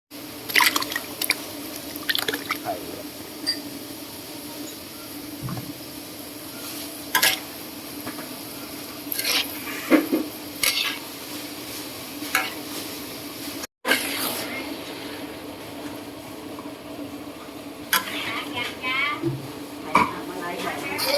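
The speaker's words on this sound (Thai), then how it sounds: "ผัดให้แห้งๆก่อนก่อนจะใส่ไข่อะ" Pickled mustard greens stir-fried with sugar in a pan, with steady sizzling and scattered scraping and clinking under a constant background hiss, and occasional voices nearby.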